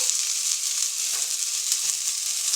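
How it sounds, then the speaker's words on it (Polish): Steady hissing sizzle of onion and diced potato frying in a pot for minestrone, continuous and fairly loud, with faint crackles throughout. "troszkę cebula mi się podsmaży"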